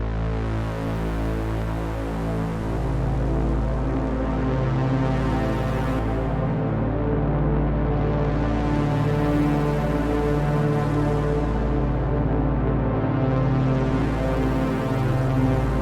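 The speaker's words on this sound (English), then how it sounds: "the distortion is adding some chaos to the sound" A thick, buzzing synthesizer drone with gritty distortion throbs continuously, its tone slowly sweeping brighter and darker in waves.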